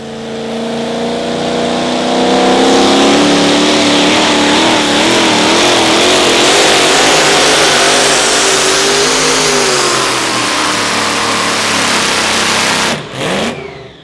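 A 2WD pulling truck at a Friday night outlaw truck pull in Wisner, Nebraska, roars loudly and close, its engine revving in long rising and falling sweeps before cutting off abruptly near the end.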